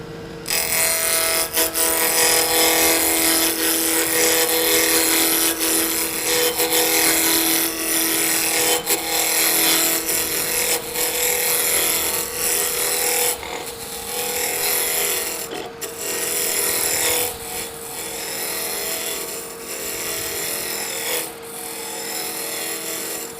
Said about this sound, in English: I'm using a 1 1/4 inch spindle gouge. I'm going to follow the bevel, and we're going to turn this round.